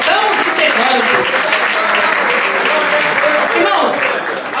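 A church congregation applauds steadily and loudly throughout, the dense clapping mixed with voices and singing beneath it.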